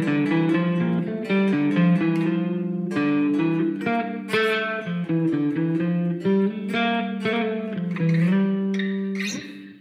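Electric guitar played through an iPad amp simulator with overdrive and reverb, a run of distorted sustained notes and chords in a looping phrase, close and upfront with no talking.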